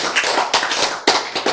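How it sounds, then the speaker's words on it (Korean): Audience applause at a church lecture, heard as a close burst of clapping with distinct sharp rhythmic claps in clusters, loud and without talk over it. "박수 정도 쳐야지."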